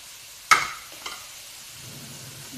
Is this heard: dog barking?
no